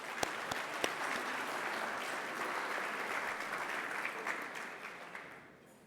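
An audience at an evening health awards celebration applauding the awardees, a sustained even wash of clapping from a large crowd that fades out at the end.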